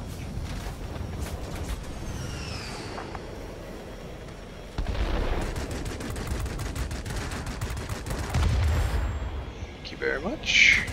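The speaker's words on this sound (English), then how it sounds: "Someone shooting at us." Machine guns in the World of Warplanes air-combat game rattle at an aircraft in rapid ticking bursts over a constant engine drone, with occasional heavier thumps and a voice speaking over the top.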